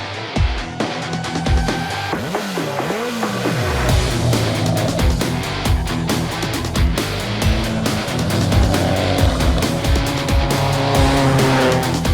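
Rally cars race at a tarmac sprint rally, loud engines revving and shifting through gears, with tire squeals and skids as cars pass close by.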